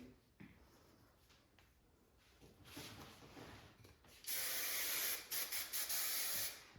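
A few faint clicks and short rustles, then a loud, steady hairspray aerosol hisses in several bursts at close range onto back-combed hair.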